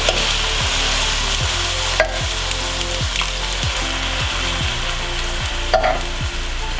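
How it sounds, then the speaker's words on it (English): Garlic and onion sizzle steadily in a hot pan as a utensil stirs them, giving a constant loud frying hiss with a few scrapes and clicks against the pan. "We're going to stir until the garlic and onion are soft."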